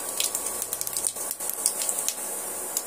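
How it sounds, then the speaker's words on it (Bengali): A bay leaf, crushed cardamom and cumin seeds fry in hot oil, producing a soft, close sizzle with quick irregular crackles and spits. "আমি একটা তেজপাতা তেলের মধ্যে দিয়ে দেব।"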